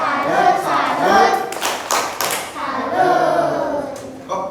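A classroom of children claps out a rhythmic 'tepuk salut' pattern in short bursts, with a teacher's voice leading and talking over it.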